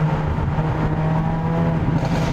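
A Hyundai Avante N driving through a tunnel with its windows down, the engine a steady droning rumble that fills the space, with faint crackles and pops from the exhaust mixed into the roar.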